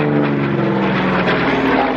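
Piston-engine fighter aircraft, a WWII-era type, flying over at an airshow: a loud, close, throbbing propeller drone with a steady low harmonic growl, sustained the whole time without speech.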